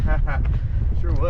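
Wind gusting at a Grand Canyon camp, buffeting the microphone in a steady low roar, with brief vocal sounds and exclamations mixed in.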